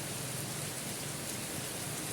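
Heavy rain falls in a steady, even hiss, a dense unbroken wash of sound that stays level and moderately loud throughout, with no talking.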